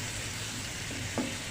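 Crushed garlic and onion frying in oil in a wok give off a steady, even sizzle, with a brief stirring scrape near the end.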